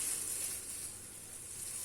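Topping mixture for keto Ali Nazik kebab frying in the same pan used for eggplant, a steady soft sizzle throughout with no voices.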